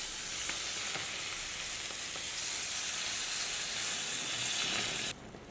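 Cornmeal cakes browning in a covered pan give off a loud, steady sizzle as clean water is poured in around their bases, the hiss holding strong for about five seconds before dropping off abruptly.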